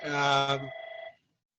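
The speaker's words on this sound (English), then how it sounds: "Let's wait for that phone to stop ringing." A telephone rings in an office-like room, a single electronic bell burst with steady harmonic tones that holds, then breaks into a rapid warbling pulse before stopping abruptly after about a second.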